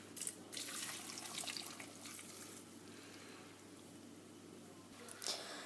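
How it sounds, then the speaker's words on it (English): Water is poured into a saucepan while making apple crumble, a continuous splashing pour that starts loudly, settles into a steady stream for several seconds, then swells briefly near the end, with no talking. "Pour 1 cup of water into the saucepan."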